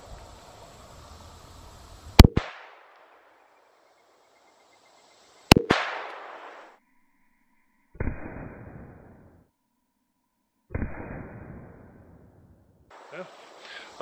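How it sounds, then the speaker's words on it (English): Smith & Wesson M&P .22LR pistol fired at a bulletproof vest outdoors: two sharp, close cracks a few seconds apart, each trailing into a short echo, with someone speaking briefly between them. "First one, Smith & Wesson M&P, 22LR. Let's take two shots here."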